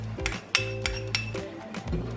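Metal spoon clinking against a cup while stirring salt into hot water, a handful of sharp ringing taps spaced irregularly, close and clear with no talk.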